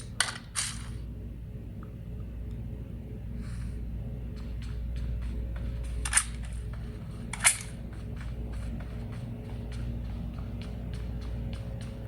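Gunfire from PUBG Mobile gameplay on a POCO M5 phone comes as a few sharp isolated shots, some faint and some louder, over a steady low hum, with no talking.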